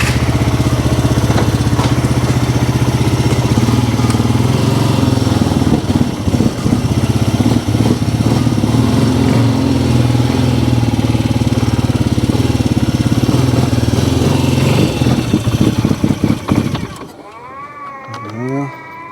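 Polaris Sportsman 300 ATV engine running loud and steady with the choke held, a rough droning idle with revving swells that cuts off near the end.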